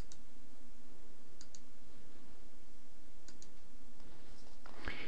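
A few quick, quiet mouse clicks tick in small pairs while selecting a settings tab in timelapse software, spaced a couple of seconds apart over a faint steady hum.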